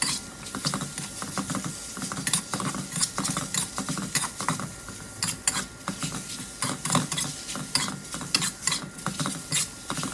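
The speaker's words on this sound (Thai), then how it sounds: "ผัดต่อไปนะฮะจนประมาณ เกือบสุก" Pork belly with cumin leaves is stir-fried in a pan: steady close sizzling under repeated scraping and clacking strokes of a spatula, continuous and lively throughout.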